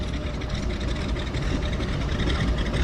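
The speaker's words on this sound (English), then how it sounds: "You can hear that round engine burping and belching away" A radial engine on a float plane idles at a float base, a steady low rumbling drone with rough, burbling texture, continuous and moderately near, with no talking over it.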